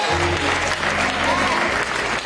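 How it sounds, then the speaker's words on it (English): A congregation claps at a bishop's consecration ceremony, brisk clapping over sustained musical tones, with voices talking through it. "Clap your hand."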